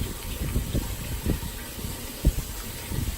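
Water runs from a kitchen tap in a steady, soft gush, with occasional low thumps and splashes rising briefly above the flow.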